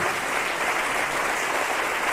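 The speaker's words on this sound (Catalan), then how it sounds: "Sisplau, un fort aplaudiment." Audience applause fills a concert hall after a final-project music performance, a dense, even roar of many hands clapping throughout with no pause.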